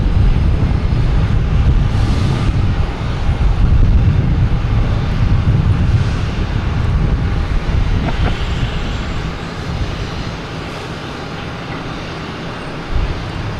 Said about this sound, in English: Next coming in is a Delta from Orlando.